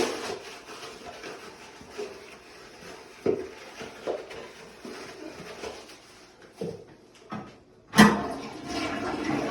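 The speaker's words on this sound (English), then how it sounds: "They told me to flush hard." A toilet flushed hard in a restroom while urine from a urinary drainage bag is emptied: a rushing burst of water near the end, loud and close, following a stretch of quieter handling noises.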